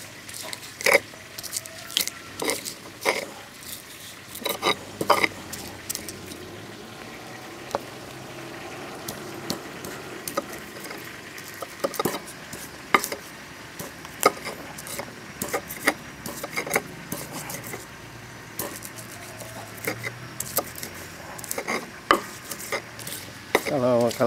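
Bird's eye chillies are sliced with a knife, giving a long run of irregular short taps and clicks, close and moderately loud, with faint kitchen background noise and no talking.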